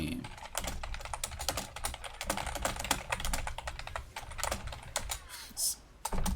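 Rapid computer keyboard typing, close and steady, with dense clicking keystrokes running throughout and a low background hum beneath, no voices.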